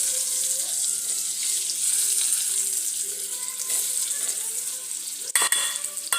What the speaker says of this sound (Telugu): ఇప్పుడు ఎగ్స్ని వేపుకుందాం.